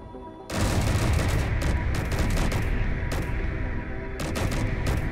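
Dense, continuous gunfire fills a battle in the video game Space Engineers, bursting in abruptly and rattling on as overlapping volleys with heavy booms, loud and without pause.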